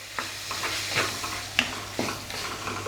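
Chopped tomatoes sauté in a pan for a chicken gravy, with a steady close sizzle and a few distinct scraping strokes of a spoon stirring them at intervals, no voices.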